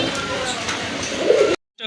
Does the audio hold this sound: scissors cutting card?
no